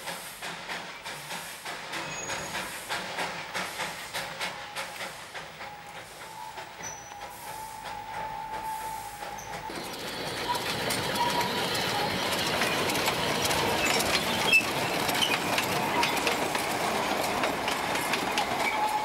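A Darjeeling toy train climbs uphill on narrow-gauge rails with steady rumbling and clickety-clack that grows noticeably louder and harsher about halfway through, with hissing and a brief squeal later on.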